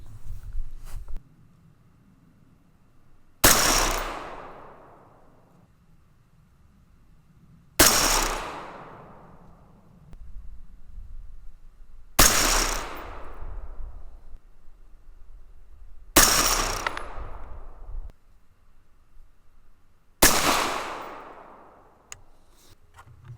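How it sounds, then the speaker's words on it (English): Rifle firing M855A1 ammunition during an accuracy test, five loud, sharp shots spaced about four seconds apart, each with a decaying echo between them. "Okay, let's take 5 more shots."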